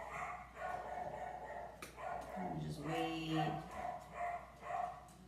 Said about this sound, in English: it might be the puppy barking that helped my cause